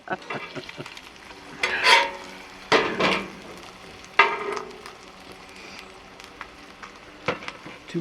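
Bacon frying in a pan, a soft continuous sizzle broken by a few sharp scrapes and clinks as the strips are turned and stirred, close and fairly quiet with no talking.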